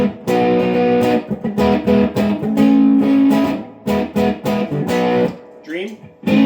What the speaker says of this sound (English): Let's go to the warm drive and the deluxe reverb again.